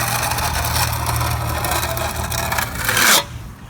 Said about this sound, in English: I'm gonna take this trowel and I'm just gonna smooth it out and push it into the crack.